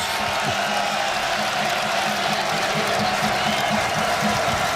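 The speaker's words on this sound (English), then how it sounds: "Crowd is buzzing." Basketball arena crowd at a college game between Iowa State and Baylor, a steady dense roar of cheering and applause filling the space throughout, with a commentator's voice riding faintly over the noise.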